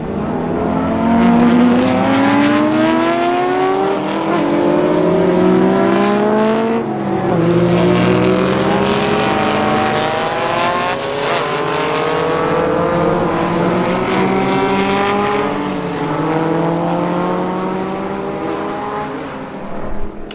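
A classic BMW M1 race car roars past on a Tour Auto road rally, its engine loud and close, pitch sweeping up through gear changes then falling away as it passes, with no talk.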